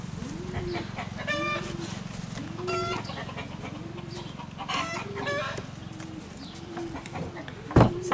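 A broody hen on her nest gives repeated low rhythmic clucks and churring calls, with other chicken calls and a rooster-like cry mixed in, close and moderately loud, ending with a sharp burst.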